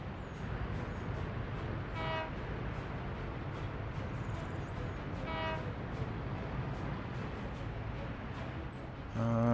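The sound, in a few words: train running in Workers & Resources: Soviet Republic video game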